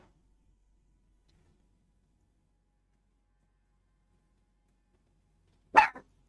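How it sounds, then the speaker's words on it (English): A single dog bark rings out once near the end after a long near-silent stretch, fairly close and brief, with no talking. "My dog's barking."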